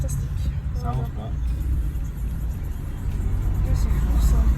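Cars idling and creeping along in slow, stalled road traffic, a low continuous engine rumble close by that swells toward the end, with people talking over it.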